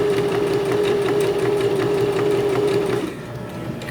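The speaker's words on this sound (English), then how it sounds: "We're using the edge of our presser foot as our guide so we can sew straight as possible." A sewing machine runs steadily as it stitches fabric, the presser foot edge guiding a straight seam during a beginner project making a rice hand warmer; a loud, even motor hum with rapid stitching rhythm that eases down near the end.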